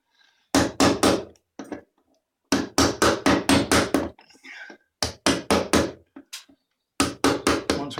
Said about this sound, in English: we clear out the grooves in the flathead screws